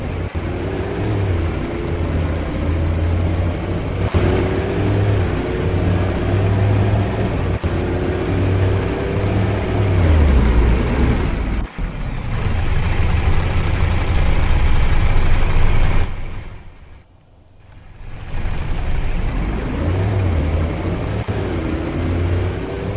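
Bus in a Roblox transport simulator driving between stops, a steady engine drone with shifting revs, a brief hiss like an air brake partway through, and a short dropout before the engine resumes.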